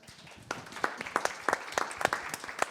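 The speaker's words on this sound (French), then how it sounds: "qu'on applaudit" An audience at a financial conference forum starts applauding after a brief pause, with distinct, fairly close individual claps quickly building into a steady round of clapping.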